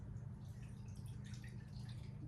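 Baileys Irish cream liqueur poured steadily into a bowl for pudding shots, a soft continuous liquid trickle with faint dripping over a low kitchen hum, with no voices.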